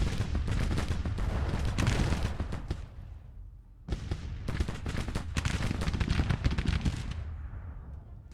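Massed musket volleys and artillery fire crackle in Grand Tactician: The Civil War, a dense continuous rattle of shots that drops briefly near the middle before roaring back, loud and sustained with no talk.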